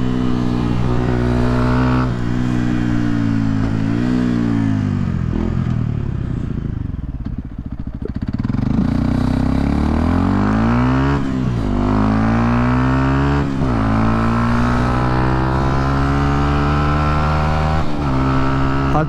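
Yamaha WR 125 X motorcycle fitted with a Leo Vince full exhaust system, its engine loud and close, repeatedly revving up and dropping back through gears over a steady throaty drone with no talking.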